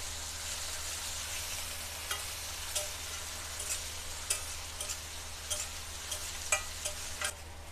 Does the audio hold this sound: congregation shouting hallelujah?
no